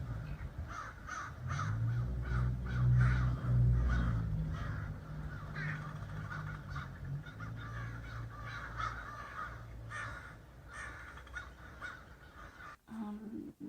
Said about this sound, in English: Watching the crows.